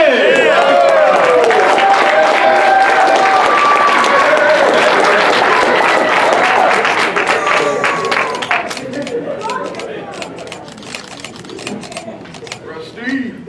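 Applause for soldiers at an award banquet. A loud, busy mix of voices and other sound is followed by a spell of scattered clapping that thins and fades toward the end.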